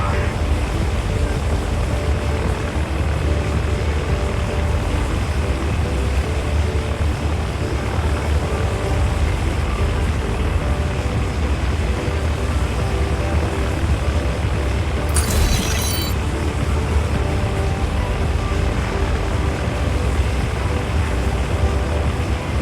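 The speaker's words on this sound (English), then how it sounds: "Flight 527, runway 8 kilo, we are cleared for takeoff." A game airplane cleared for takeoff from a runway roars with a loud, steady, continuous engine drone that barely changes, with no talk heard over it.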